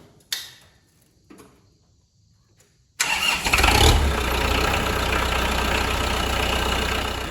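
A few faint clicks and clunks, then a Kubota Grand L5240 tractor engine cranks and catches with a roar, settling into a loud, steady idle close by.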